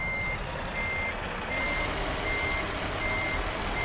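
Steady, evenly spaced reversing beeps from a truck in a trucking video game, moderately loud over a constant engine drone, with no talk.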